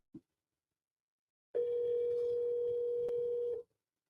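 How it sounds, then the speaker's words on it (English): Telephone dial tones from several lines at once merge into one steady, loud tone that holds for about two seconds after a brief click. "Got 7 dial tones going."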